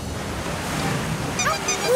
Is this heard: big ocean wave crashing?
yes